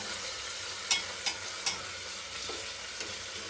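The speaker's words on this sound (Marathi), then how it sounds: "बघू शकता कांदा टाकला. व्यवस्थित मिक्स करून घ्यायचं आहे आपल्याला." Onion frying in a pan for dal khichdi, stirred with a spatula: a continuous sizzle marked by several distinct scrapes and clinks, close and fairly quiet, with no voices.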